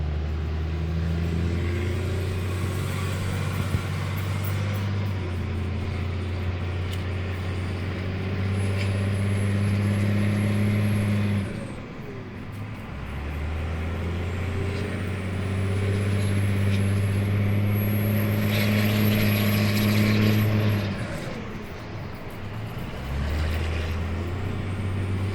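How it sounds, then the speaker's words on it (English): A 5.9 engine with an S300 turbo and the silencer ring removed idles with a steady low rumble, while a high turbo whistle spools up and holds twice, dropping away between the pulls. "see if you guys can hear the turbo"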